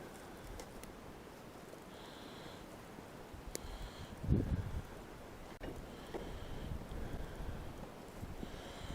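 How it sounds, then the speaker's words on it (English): Steady outdoor wind rushes and buffets throughout, with a louder gust in the middle and faint rustling in the background, while testing a StoveTec lightweight biomass rocket cookstove outdoors. "The wind's coming from behind"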